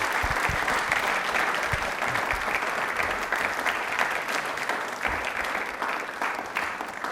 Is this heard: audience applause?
yes